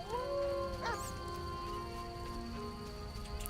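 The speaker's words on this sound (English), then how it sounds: "I heard a howl." A wolf howls in The Witcher video game, a long, rising and wavering tone sustained over a steady game music bed, moderately loud and without talk.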